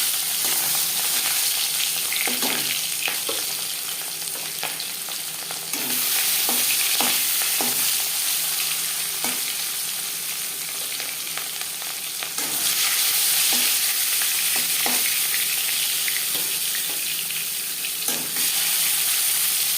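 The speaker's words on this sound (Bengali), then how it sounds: "তেল ভালো করে গরম করে নেওয়ার পর দিয়ে দেবো মাছ" Katla fish pieces hit hot mustard oil and fry with a loud, close, spattering sizzle that swells in two bright bursts, broken by occasional spatula taps and scrapes.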